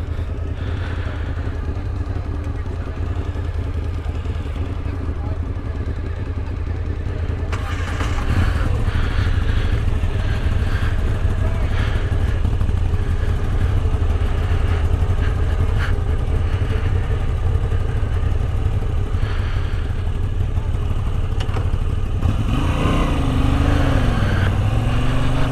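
A Moto Guzzi V85 TT motorcycle with its exhaust baffles removed rumbles steadily close by, then grows louder as it pulls away and keeps riding, with a brief shift in engine note near the end.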